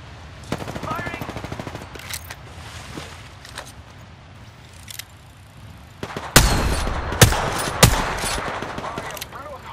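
Gunfire in the video game Apex Legends, scattered single shots followed by louder rapid bursts near the end over a low game ambience.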